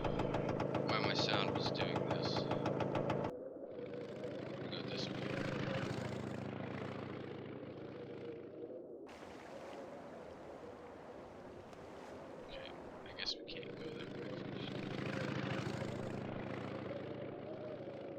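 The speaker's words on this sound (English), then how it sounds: "we can start our motorcycle." A video-game motorcycle engine starts up and idles with a steady low rumble, fairly quiet, with a few brief revs and shifts in tone.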